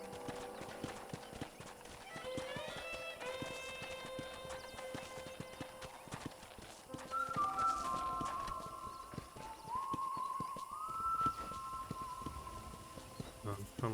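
Horse hooves clip-clop at a steady walking rhythm in Red Dead Redemption, mixed under in-game music and a character's speech throughout.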